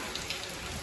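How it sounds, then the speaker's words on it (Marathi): Heavy rain pours outside in a village, a brief, soft, steady hiss with no voices. "बाहेर पूर्ण पाऊस पडत आहे."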